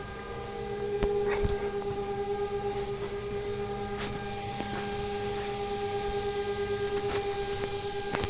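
Machine spindle running during a short wall manufacturing cycle, a steady whining hum with a constant tone held throughout, with occasional faint clicks and knocks over the drone.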